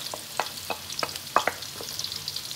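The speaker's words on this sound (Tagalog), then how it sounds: "Ayan, lutuin lang natin yan hanggang sa, ayan, mag-golden brown siya" Onions sautéing in oil for pork kare-kare, a light sizzle broken by repeated quick spatula scrapes and taps in an uneven rhythm.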